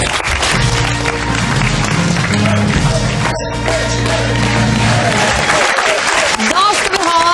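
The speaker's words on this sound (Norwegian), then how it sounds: "Jeg syns faktisk at dere skal ha applaus for innsatsen" An audience applauds a team's effort on a Norwegian game show, a dense burst of clapping with voices mixed in that fades out near the end.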